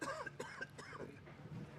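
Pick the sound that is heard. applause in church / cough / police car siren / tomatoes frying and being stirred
cough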